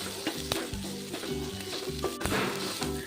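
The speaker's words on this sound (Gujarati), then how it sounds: "ડુંગળીનો કલર બદલે ત્યાં સુધી ડુંગળીને હાઈ ફ્લેમ ઉપર આ રીતે સાંતળવાની છે" Onions sautéing on a high flame with garlic and ginger pieces for a Gujarati sev bhaji, giving a steady close sizzle with soft scraping stirs recurring throughout.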